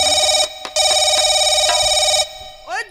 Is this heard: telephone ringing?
yes